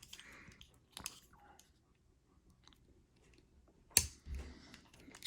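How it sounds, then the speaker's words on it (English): Plastic parts of a Transformers Masterpiece MP-40 Targetmaster Hot Rodimus figure being handled and clicked into place: faint scattered ticks and rubbing, with a sharp close snap near the end followed by a short rustle. "Open this up, open the back of the legs, rotate them down."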